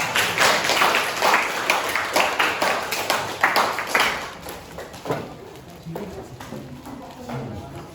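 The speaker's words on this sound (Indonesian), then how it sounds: "Berikan tepuk tangan untuk kelompok 2" A classroom audience claps for presentation group 2, a run of distinct, fairly loud hand claps in a brisk uneven rhythm that thin out and soften toward the end, with voices talking over them.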